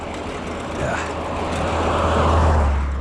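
Road traffic rolls past at close range, a steady broadband roar with a low engine rumble that swells toward the end as a vehicle nears.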